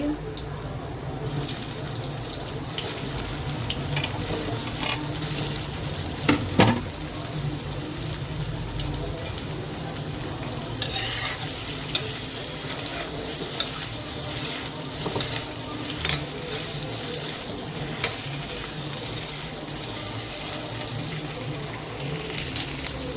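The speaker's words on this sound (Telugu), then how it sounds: "ఆయిల్ బాగా వేడెక్కిన తర్వాత మనం ముందుగా ఉప్పు కారం కలిపి పెట్టుకున్న పొటాటోస్ని వేసుకోవాలి." Salted, spiced potato pieces frying in hot oil for dum aloo curry, a dense continuous sizzle with occasional sharp pops and spatters, close and steady throughout, with no talking.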